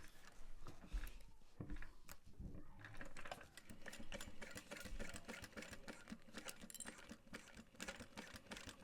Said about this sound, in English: we're gonna top stitch this